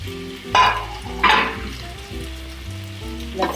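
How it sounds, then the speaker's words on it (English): Chicken and onions tossed together in a frying pan for a chicken and caper pasta, sizzling steadily with two bursts of scraping as a utensil stirs them, close and fairly loud. "We are putting the chicken back into the onion and stir it together"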